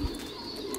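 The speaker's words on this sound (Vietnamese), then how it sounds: "nuôi chim bồ câu ở trại mình là nuôi theo hình thức công nghiệp anh em ạ" Caged pigeons on an industrial-style pigeon farm give a brief, soft, low cooing over a steady background hum, with no talking.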